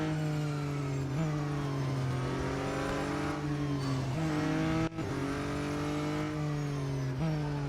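Race car engine in the mobile game Real Racing 3, revving up repeatedly through quick gear changes, loud and continuous with no talk.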